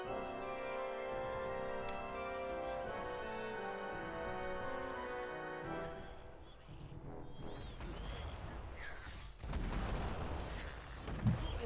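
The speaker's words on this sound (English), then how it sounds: "Nice cannon noises anyway." Cannon fire in the tower-defense video game Hold The Fort: repeated heavy booms and crashing impacts over a steady musical soundtrack, growing denser and louder toward the end.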